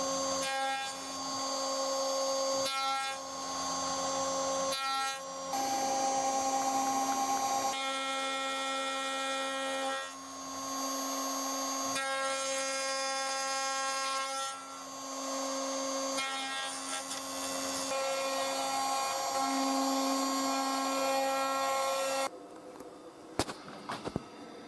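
A power drill boring 3mm holes into a jig runs steadily and loud for over twenty seconds, its motor whine holding with small dips as it bites, then cutting off near the end to a few faint knocks.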